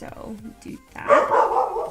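A dog barks close by in a short burst near the end, following a brief spoken phrase from a man.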